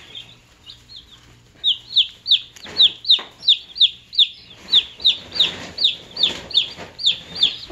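A chick chirps in a steady rhythm of high, repeated peeps, close and fairly loud, with soft chicken clucking and rustling underneath on a homestead.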